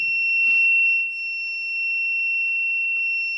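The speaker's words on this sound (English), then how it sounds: "the buzzer is also on, giving quite a good sound" Buzzer alarm of an IoT temperature monitor sounding as a steady, continuous electronic tone throughout, with a brief burst of noise near the start and no talk.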